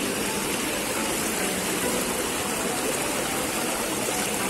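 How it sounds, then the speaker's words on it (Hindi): A waterfall at Jaigaon near the Bhutan border, where a ravine has become a cascade, roars as a loud, continuous broadband rush of falling water with no pauses. "खाई आज बन गया है झरना के रूप में, जैसा कि आप लोग देख सकते हैं।"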